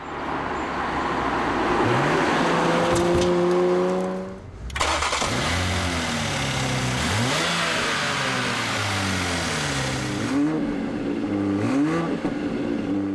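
A 2020 Toyota GR Supra's 3-liter inline-six, shared with the BMW Z4, revs loudly and near, climbing through the revs, dropping off at a shift, then surging repeatedly through gears in rising and falling sweeps.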